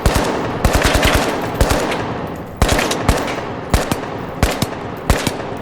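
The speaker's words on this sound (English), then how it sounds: "And we have different materials as well for bullet impact." Automatic gunfire in the game THE FINALS, with bullets striking various surfaces. Bursts of sharp, rapid shots alternate with short pauses, the loud impacts crackling and rattling throughout, with no voices.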